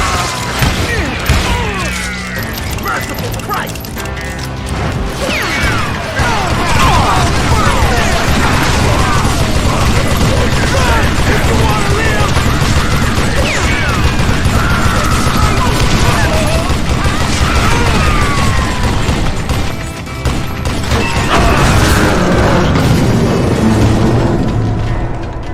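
Gunfire in the Western shooter Call of Juarez Gunslinger: loud, continuous volleys of shots and booming impacts fill the whole stretch, dense and relentless with brief dips.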